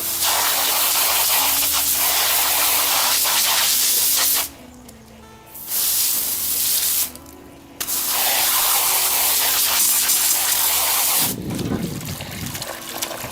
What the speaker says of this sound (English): hose it out. That's all I do.